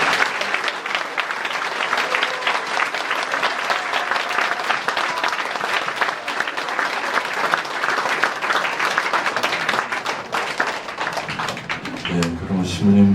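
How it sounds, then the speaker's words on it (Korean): Audience at a 2015 blessing ceremony at a St. Francis peace center breaks into sustained, dense applause for about twelve seconds, steady and fairly loud, with a voice and a few tones entering near the end. "감사의 박수를 한번"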